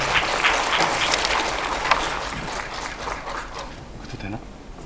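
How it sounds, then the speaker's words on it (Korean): Audience applause welcomes a pharmacist-speaker at a chronic-disease academic seminar: a steady wash of many hands clapping in a hall that holds for about four seconds, then thins out and fades. "큰 박수로 맞이해 주십시오."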